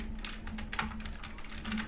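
Rapid keystrokes on a computer keyboard in a computer class, a quick irregular patter of light clicks heard up close over a faint steady hum.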